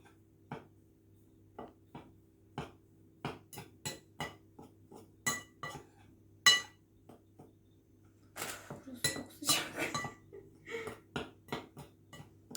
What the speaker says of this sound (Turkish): Bunları karıştırıyoruz.